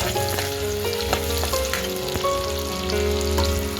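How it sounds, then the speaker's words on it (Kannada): Garlic and onion fry in hot oil in a kadai, a loud, dense, continuous sizzle with scattered crackles and stirring scrapes, with no voices. "ಕಡಾಯಿ ಎಣ್ಣೆ ಹಾಕೊಂಡು ಈಗ ಸ್ವಲ್ಪ ಬೆಳ್ಳುಳ್ಳಿ ಹಾಕೊಳ್ಳೋದು ಈಗ ಈರುಳ್ಳಿ ಹಾಕೊಂಡು ಈಗ ನುಗ್ಗೋಬೇಕು"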